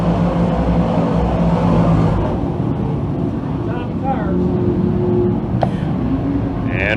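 358 modified race cars roar past on a dirt track in a continuous engine drone that rises and fades, heard beneath steady race commentary.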